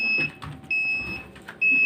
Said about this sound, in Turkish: Bu makine niye çalıyor baba?